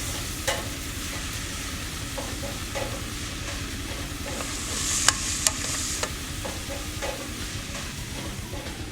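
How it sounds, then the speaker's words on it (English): Onions and garlic sauté in a pan with a steady sizzle, punctuated by scattered scraping clicks as the pan is stirred, including a few sharper taps near the middle. "Now, add the garlic. I'm going to saute these down now until they're nice and translucent."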